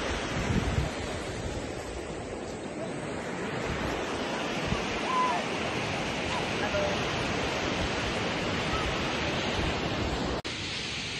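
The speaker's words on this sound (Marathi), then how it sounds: "जाता जाता शेवटचा समुद्र दाखवते." Sea waves roll in at Malvan beach, a steady, moderately loud wash of surf with wind noise that continues unbroken across the whole stretch.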